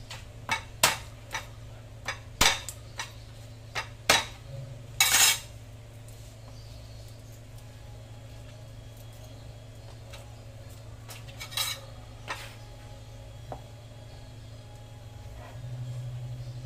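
Ground meat sautéing in a pan, with sharp metal utensil clanks and scrapes against the pan standing out over a low steady background hum.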